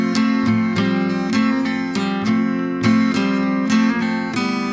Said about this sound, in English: I use my pinky to hammer on pull off,